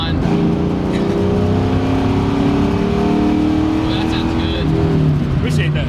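Supercharged 4.6 Mustang V8 pulling hard on a third gear roll, a steady loud engine drone with a rising pitch and supercharger whine, while people talk over it.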